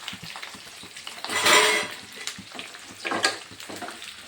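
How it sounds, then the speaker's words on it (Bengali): Carrots, chilies and capsicum stirred in hot oil for a homemade pickle: a loud, close sizzle that swells in bursts as the spoon scrapes and turns the vegetables, with no talk over it. "একটু নেড়ে চেড়ে নেব সব মিলিয়ে নেব"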